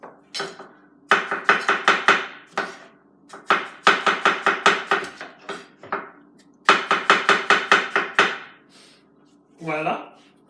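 Berries being sliced on a cutting board for crepes, bursts of rapid, crisp knife chops in quick rhythmic runs separated by short pauses, close and distinct, with a brief voice near the end.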